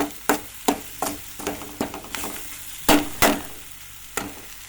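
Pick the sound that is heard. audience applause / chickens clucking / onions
onions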